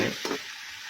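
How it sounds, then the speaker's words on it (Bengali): Chopped onion, green chili and garam masala get a quick stir in a hot pan for khichuri, giving a brief sizzle with one short scrape of the spoon, close and alone. "গরম মশলা দিয়ে দিলাম, কাঁচামরিচ, তারপরে পেঁয়াজ কুচি দিয়ে দিলাম, একটু নেড়ে চেড়ে নেব"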